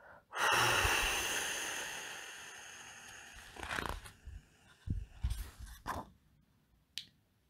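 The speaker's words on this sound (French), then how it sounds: "Tu vas prendre une très profonde inspiration. Et tu vas souffler" A long, steady breath drawn in and blown out slowly, soft and close, followed by scattered small clicks, snaps and rustles during a children's relaxation exercise.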